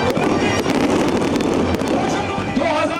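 Fireworks crackle and pop at the opening ceremony of an under-23 games in a sports ground, a dense, loud, continuous barrage of bangs with crowd noise beneath.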